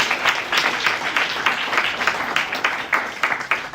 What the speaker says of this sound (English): Please, can we give him another round of applause?